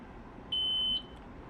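A single sustained electronic cab-signal beep inside a Long Island Rail Road train cab, lasting about half a second, steady and clear over a low rumbling background.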